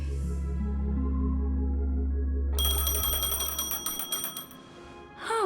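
A phone rings inside the video game Honkai Star Rail, a bright electronic trill that cuts in over a low sustained musical drone and repeats in quick pulsing bursts before a final rising ring.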